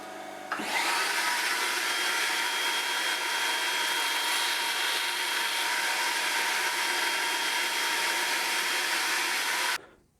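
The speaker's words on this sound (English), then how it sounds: "So I'll get this onto the disc sander and we'll just get that sanded roughly to shape," Disc sander shaping a top nut for a Rickenbacker 620/12 twelve-string guitar, a continuous loud whirring hiss that starts abruptly, holds steady for about nine seconds and then cuts off.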